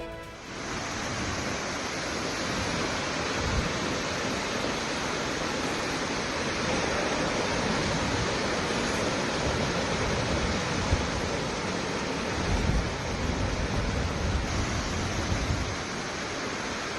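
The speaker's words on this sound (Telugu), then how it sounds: "దీంతో అధికారులు 2 గేట్లు తెరిచి 706 క్యూసెక్కుల నీటిని దిగువకు విడుదల చేశారు." Water rushes steadily through two opened reservoir gates during heavy Mumbai monsoon rains, a dense, constant roar that holds at the same loud level for the whole stretch, with no voices.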